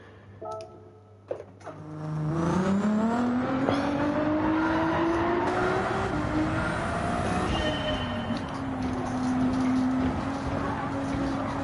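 Race car engine in Gran Turismo 7 on a GT3 Open lobby race, a steady loud drone that climbs in pitch through the gears with brief dips at shifts, heard alone after a short quiet start.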